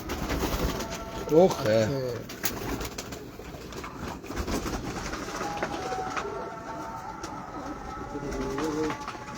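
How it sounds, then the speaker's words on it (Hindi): Pigeons cooing softly in a loft, low repeated coos mixed with other bird calls and steady background noise, with people talking nearby. "ये जो लास्ट पकड़ाया कबूतर ये कौन सा है?"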